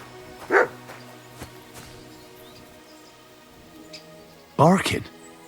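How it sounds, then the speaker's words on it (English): A dog barks in the video game Kingdom Come Deliverance 2, two sharp, loud barks separated by a few seconds over a quiet ambient backdrop with faint rain-like hiss. "Barking."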